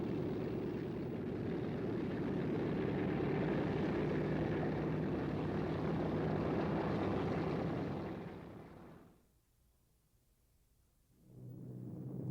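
Boeing B-17 Flying Fortress (Model 299) flying in 1935, a steady multi-engine propeller drone that fades out around nine seconds, leaves a near-silent gap, then returns quietly.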